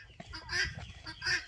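Chickens in a farm poultry shed built for about 80 birds give a few close, loud, harsh squawking calls in two short bursts, with no talking.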